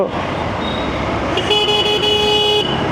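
Traffic noise drones on, then a motorcycle horn, from a Yamaha FZS V2 or Honda Hornet 2.0, honks for about a second, a flat steady tone over the road sound.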